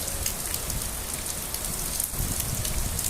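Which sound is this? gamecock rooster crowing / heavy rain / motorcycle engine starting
heavy rain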